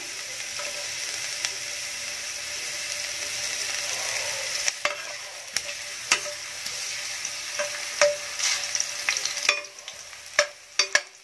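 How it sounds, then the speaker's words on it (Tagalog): Ginger browns in a pan, a steady sizzle and frying hiss broken by sharp clicks and scrapes of stirring, growing more uneven toward the end. "I-brown lang po natin ang ating luya."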